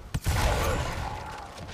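Gunfire in the video game Gears Tactics: a sharp crack opens into a brief, broad burst of shooting that rumbles on for about a second and a half, with no talk.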